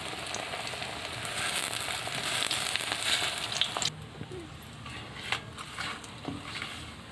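Cabbage rolls frying in a pan give a dense, close crackling sizzle that drops noticeably partway through, after which softer scattered pops and spatters continue.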